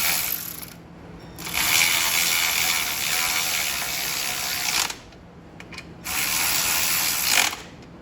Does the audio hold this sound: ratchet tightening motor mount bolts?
yes